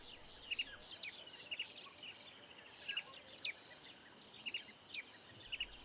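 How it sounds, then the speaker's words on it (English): A steady, shrill insect drone, like cicadas, hums on without a break, while scattered bird chirps and tweets rise over it. "The only thing breaking the peace is the incessant screeching of cicadas."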